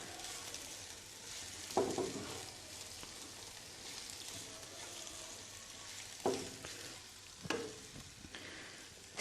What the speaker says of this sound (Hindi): और अब इसके अंदर ये जो प्याज थी ये डाल देंगे। इसको थोड़ी देर के लिए फ्राई करना है